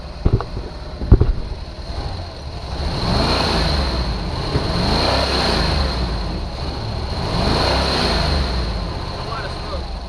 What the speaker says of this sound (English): Can you rev it up? Yeah, I can rev it up.